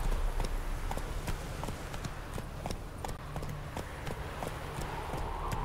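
Roach the horse gallops in The Witcher 3: Wild Hunt, a steady rhythmic run of hoofbeats close by over a constant rushing background.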